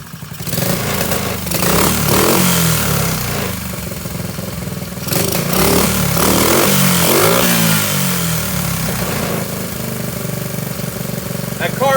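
A Honda SL70K1 motorcycle engine with a dirty carburetor runs rough and close by, its revs rising and falling in uneven bursts, with a person talking over it.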